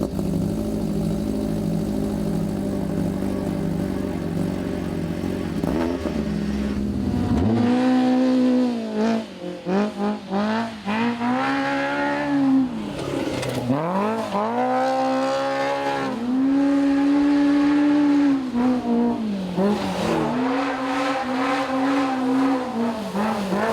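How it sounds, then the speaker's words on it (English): A Polaris RZR Pro R off-road UTV with a 4-cylinder engine and MBRP aftermarket exhaust idles loudly, then revs hard in repeated rising bursts, with a raspy exhaust note close to the microphone. "4-cylinder engine, and now you got your MBRP exhaust on it"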